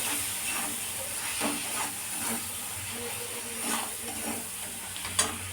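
A spiced dish, meant to become a prawn dish, is sautéed with chili powder and salt in a pan, giving a quiet continuous sizzle and hiss with soft stirring scrapes and a sharp clink near the end.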